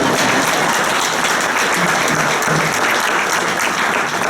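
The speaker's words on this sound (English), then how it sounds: "You can applaud." An audience applauding at a school groundbreaking ceremony outdoors, dense steady clapping from many hands, loud and sustained throughout.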